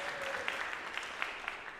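An audience at a religious service claps for a musician, producing steady, moderately distant applause with scattered sharper claps throughout.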